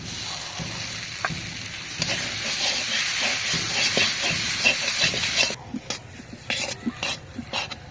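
Spices frying in a pan give a loud, close, steady hiss and sizzle with light stirring knocks, then the hiss suddenly drops as mashed potato goes in, leaving softer stirring and scraping thuds.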